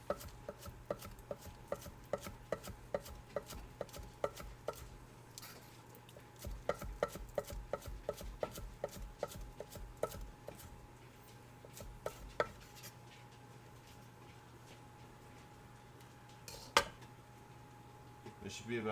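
Knife slicing green onion very thinly on an extreme bias, a quick run of light, regular taps on a cutting board, then a pause and another steady series of close chops.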